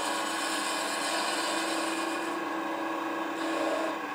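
A wood lathe spins while the ends of a turned wooden coffee scoop are cut down, giving a steady close whirring hum with a soft scraping hiss from the tool, running unbroken throughout.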